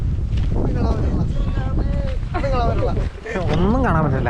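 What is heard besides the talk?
strong wind blowing at Vagamon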